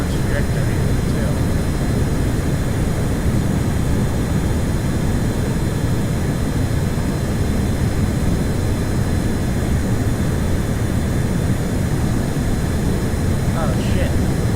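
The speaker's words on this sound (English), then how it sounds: "for a jet with a lot of holes in the wings, this thing flies pretty nice." A jet aircraft in a video game with its wings full of holes, a steady loud engine roar droning without a break under faint background sounds.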